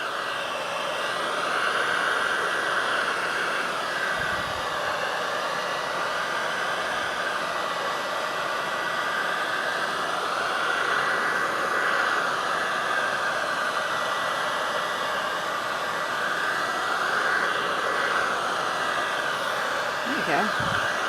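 A hair dryer blows air to dry fresh milk paint and wax on a piece, giving a loud, steady, close-up roar with a constant whine that runs unbroken the whole time, with no talking.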